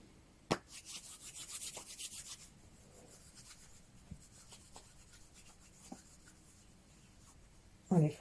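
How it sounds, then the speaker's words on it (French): Hands rub together in a quiet meditation setting, a soft, close, continuous friction swish after an initial clap, fading to lighter brushing before a sharper sound at the end. "on va frapper dans nos mains et les frotter jusqu'à ce qu'elles soient vraiment chaudes"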